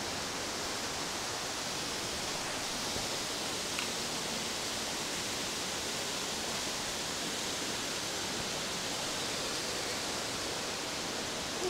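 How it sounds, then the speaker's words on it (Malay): Cemperoh waterfall on the Gunung Nuang trail, among mossy rocks and logs, roaring as a dense, steady rush of falling water that fills the whole clip, close and unbroken with no voices. "Air terjun Cemperoh."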